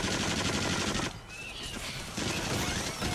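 Loud, rapid bursts of gunfire ring out in the VR shooter Until Dawn: Rush of Blood while spiders and zombies attack, with a brief lull midway before the shots resume.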